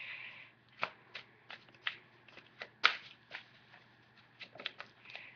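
Oracle cards shuffled by hand at close range, a quiet run of papery riffles and soft slaps with one sharper snap partway through, alone without talk.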